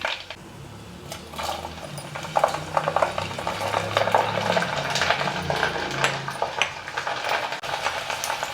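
Garlic and spices crackle and sputter in hot oil for the tempering of an amla pickle, a busy stream of close popping sizzles with occasional metallic clinks of a pan.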